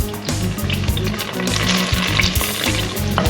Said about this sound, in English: Olive oil, cast iron pan, generous, full power. Sliced shiitakes, full of umami and flavor.